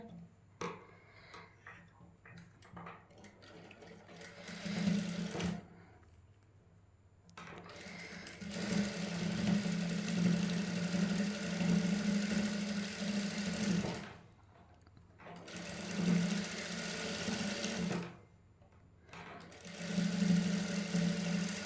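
A sewing machine stitches lace onto fabric in close, steady bursts, running for several seconds, pausing briefly, then starting again.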